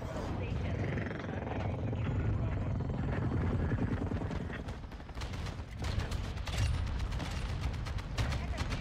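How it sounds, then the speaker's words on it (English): Chopper gunner helicopter killstreak in the Modern Warfare 2 video game: a continuous loud rotor drone with bursts of gunfire and mechanical clatter, a voice talking over it. "I'm gonna call the chopper gun in."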